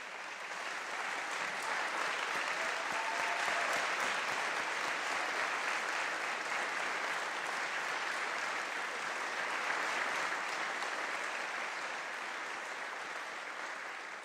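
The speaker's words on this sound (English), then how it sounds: "I ask you to give her a big round of applause." Sustained, even applause from a large audience at the Illinois governor's State of the State address, a broad wash of many hands clapping steadily for about fourteen seconds without any voice.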